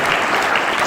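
Dense, steady clapping from a church congregation, close and continuous for the whole burst.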